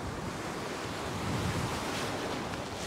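Ocean surf breaks steadily on a fishing beach, a continuous loud roar of washing waves with wind buffeting the microphone and no voices.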